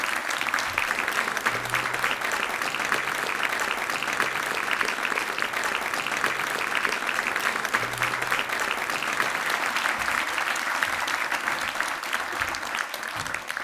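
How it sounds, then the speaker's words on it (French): Sustained applause from a concert audience, dense and steady throughout as costumed performers leave the stage at a children's musical show, with no talking over it. "Et Mademoiselle Candy, qui vont regagner les coulisses sous vos applaudissements."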